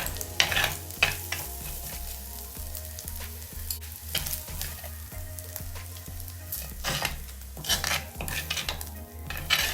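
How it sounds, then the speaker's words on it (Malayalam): Beaten eggs scrambled and fried in coconut oil in a pan: a constant close sizzle with repeated rhythmic scraping and tapping of a spatula against the pan, and no talking. "മുട്ട ഇതിലേക്ക് ചേർത്തിട്ട് നമ്മൾ നന്നായിട്ട് ചിക്കി പൊരിച്ചെടുക്കണം"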